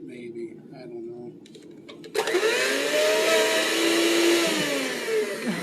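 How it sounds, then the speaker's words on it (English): A faulty kitchen blender mixing peanut butter bread batter kicks in abruptly after a stretch of talk and quiet stirring, then whirs loudly and steadily with a wavering pitch, close by. "We have a faulty blender."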